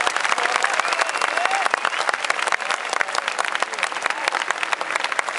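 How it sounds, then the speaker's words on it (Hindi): An audience at a Hasya Kavi Sammelan comic poetry recital bursts into dense, sustained applause, many hands clapping continuously throughout at a moderate distance. "मेरी इस बात पर आपकी तालियों का हुजूम देखना चाहता हूं।"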